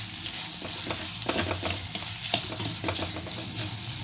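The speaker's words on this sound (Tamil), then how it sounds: "வெங்காயம் ஒரு ஒரு நிமிஷம் வதங்கலாம் போடணும்" Chopped onions frying in a pan for karuvadu thokku, a dried-fish relish, crackle and hiss loudly and close up, broken by quick scrapes of a spoon stirring them.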